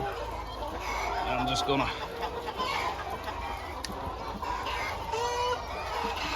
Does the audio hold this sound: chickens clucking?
yes